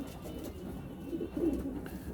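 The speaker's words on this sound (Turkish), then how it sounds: "Kuşlar bunlar." Pigeons give soft, low cooing at close range, with a few rolling coos swelling in the middle against a quiet background.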